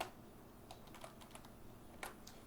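Rapid clicking keystrokes on a computer keyboard while code is typed, an irregular run of light taps with a few louder strokes over quiet room tone.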